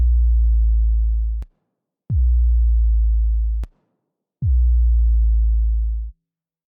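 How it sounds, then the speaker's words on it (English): Three long, deep synthesized 808-style bass notes with a gritty, distorted edge, made in Ableton Live, each starting with a click and slowly fading, separated by short gaps of silence. "Note the amp envelope decays slowly like an 808."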